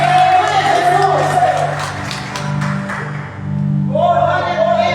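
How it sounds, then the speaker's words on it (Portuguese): A church congregation at a Sunday service applauds and cheers, with a burst of clapping and scattered shouts over sustained music, fading briefly before the music swells again. "Dê uma linda salva de palmas ao Senhor"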